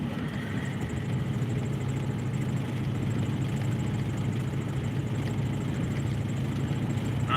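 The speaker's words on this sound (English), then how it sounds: "I don't know if you can hear the vibration in my truck." A pickup truck engine idles steadily in a suburban area with a wheel weight thrown from a wheel, a continuous low rumble with a faint vibration and no talking.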